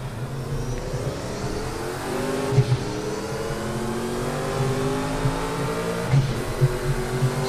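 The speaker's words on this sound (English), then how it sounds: "that is a lot of rev limiters there" A race car engine in Project CARS 2 holds at high revs and repeatedly bounces off the rev limiter, a steady loud drone with stuttering bursts, heard up close from the car alone.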